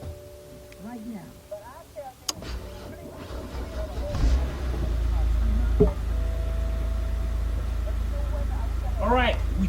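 A 2010 BMW 528i 3.0 engine turns over slowly and drags before catching into a steady low rumble, with a voice talking faintly at the start.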